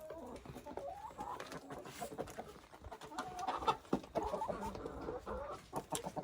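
A rooster clucks and grumbles repeatedly at close range among a group of hens, with uneven bursts of short calls rising and falling, fairly faint overall.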